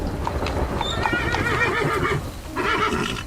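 A horse neighs with a long, wavering whinny over the clatter of hooves, loud and close, and a second shorter whinny follows, in a horse-drawn carriage scene.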